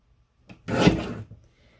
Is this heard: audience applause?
no